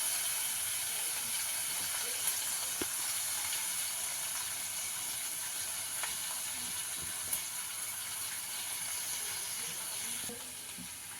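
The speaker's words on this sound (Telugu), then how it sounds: "ఇప్పుడు కొంచెం ఆయిల్ వేసుకుని కొత్తిమీరని మగ్గబెట్టుకుందాం" Chopped coriander leaves fry in oil in a pan, giving a soft, steady hiss close by, with a few faint clicks and knocks scattered through.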